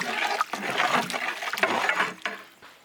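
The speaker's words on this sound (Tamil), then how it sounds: "அதுக்கப்புறம் கொஞ்சம் போல் தண்ணி சேர்த்துக்கலாம்" A little water goes into chicken frying in a pan for traditional chicken vadi biryani, a close, rushing splash and hiss lasting about three seconds.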